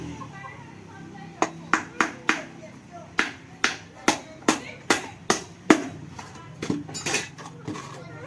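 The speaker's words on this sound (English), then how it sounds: "So you see, as I'm nailing, it's going into the hood direct." Hammer blows driving nails into a wooden rabbit nesting box, about fifteen sharp close strikes in uneven bursts of two to four, each with a bright ringing clack.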